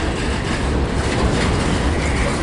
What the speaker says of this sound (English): Yep, I know, that's a long train.